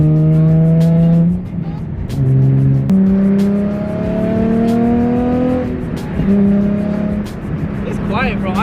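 A Nissan 350Z fitted with a newly installed exhaust revs close up, the engine rising and falling through several loud pulls and settling to idle between them, with people talking over it.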